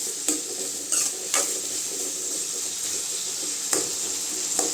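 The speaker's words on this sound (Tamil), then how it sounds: "தக்காளி சேர்த்துட்டு உப்பு சேர்த்துக்கோங்க அப்போ தான் தக்காளி நல்லா வதங்குங்க" Tomatoes with salt sauté in a pan for a Tamil-style tomato chutney, giving a steady close sizzle broken by several sharp scraping stirs of a spoon against the pan.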